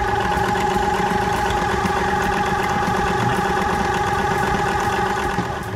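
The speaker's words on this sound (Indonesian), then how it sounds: "Kalau dari sisi motornya ini cukup bagus, masih berjalan ya." A portable 12 V AC/DC 350 W compressor's motor runs steadily, but it is failing to build any pressure. It gives a loud, continuous, even mechanical drone with a buzzing tonal hum that lasts throughout.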